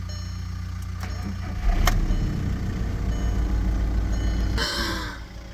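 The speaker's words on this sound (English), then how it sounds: "in case this thing cranks, we can hear it crank up through the video camera" A Volkswagen MK5 Jetta TDI diesel engine, blown and being rebuilt, cranks briefly, then catches and settles into a loud, steady, rough-running idle close by before fading slightly at the end.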